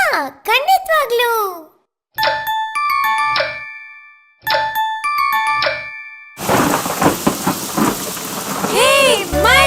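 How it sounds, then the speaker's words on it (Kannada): A thunderstorm with loud rumbling thunder and heavy rain pouring down, preceded by someone speaking and chiming musical tones. "ಹೇ ಮಳೆ!"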